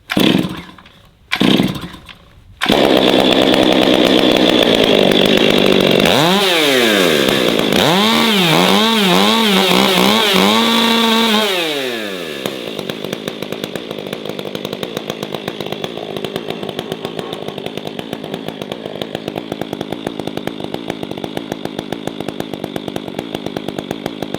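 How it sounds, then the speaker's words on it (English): A fuel-injected chainsaw with no choke catches after a couple of pulls, then is revved hard with rising and falling engine whines before settling into a lower, loud, steady idle. "General rule, it's not a good idea to rev up a saw like that as soon as you start it."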